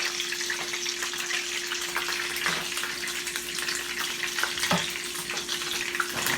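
Hamburger steak patties frying in a pan give a steady, close sizzle and crackle with soft watery hiss, holding even throughout with a few brief sharper pops and no talking.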